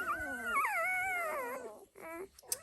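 Six-day-old Dalmatian puppies whimpering and crying, a long wavering high-pitched whine followed by a couple of shorter squeaks, close and fairly quiet.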